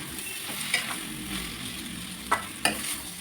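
Tomato puree and masala being stirred in a frying pan for spicy chicken fry, a continuous close sizzle with a few sharper scraping knocks of the spoon against the pan, no talk.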